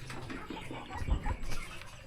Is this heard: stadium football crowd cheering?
no